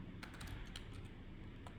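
Rapid typing on a computer keyboard, a run of light clicking keystrokes over a steady low background hum, close and fairly quiet, with no talking.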